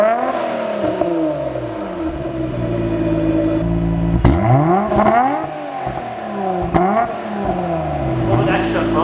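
A Nissan Skyline R33 GTR with a test pipe on its current exhaust revs repeatedly, several rising and falling throttle blips over a rumbling idle, loud and close, with voices talking faintly underneath.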